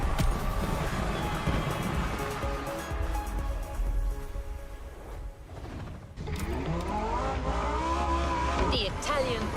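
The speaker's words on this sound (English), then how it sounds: "The Lamborghini Terzo Millennio like you've never seen it before." Lamborghini Terzo Millennio racing in The Crew Motorfest: a continuous, loud engine roar with shifting pitch and brief tire squeals, steady throughout with a short dip in the middle before the car surges again.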